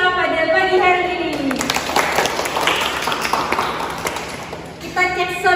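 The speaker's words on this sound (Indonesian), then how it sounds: "beri sekali lagi tepuk tangan kepada pemateri kita pada pagi hari ini" Dense, steady applause from a room of mothers at a health education session on balanced nutrition for breastfeeding women, filling several seconds between bursts of amplified speech at the start and end.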